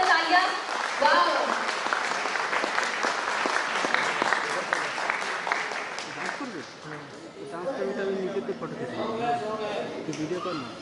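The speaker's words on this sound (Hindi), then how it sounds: "बच्चों के लिए सम्मान के जबरदस्त तालियां" Loud, sustained audience applause at a celebration event honoring children, with continuous dense clapping throughout and voices mixed in beneath it.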